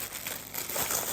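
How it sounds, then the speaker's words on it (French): Opening a delivered cardboard parcel, a brief close burst of crinkling and rustling packaging with a slight tearing texture, with no talk. "premier colis, on va ouvrir."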